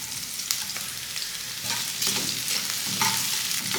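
Small chopped capsicum pieces sizzling and frying in hot oil in a pan, a steady crackling hiss with a few stirring scrapes, close and moderately loud with no talk.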